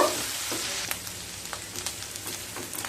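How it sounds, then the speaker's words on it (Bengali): Ground onions fry in oil over medium-low heat for a fish curry, a steady soft sizzle with faint crackles and occasional light clicks, no voices. "মিডিয়াম টু লো স্টিমে পেঁয়াজগুলোকে খুব ভালো করে ভেজে নেব।"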